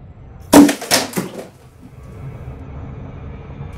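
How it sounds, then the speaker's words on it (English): An Amazon Alexa smart speaker lands in a bin with a loud close clatter, followed by a couple of smaller knocks that fade into low room noise. "That was the sound of my Alexa going in the bin"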